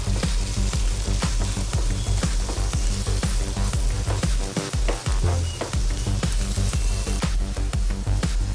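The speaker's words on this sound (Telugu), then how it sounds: "ఈ ఎగ్ బాగా ఫ్రై అయ్యేంత వరకు ఫ్రై చేసుకోవాలి." Eggs seasoned with salt and chili powder fry steadily in a pan for egg noodles, a loud, dense crackling sizzle with constant popping that continues throughout, briefly broken by a muffled scrape of stirring.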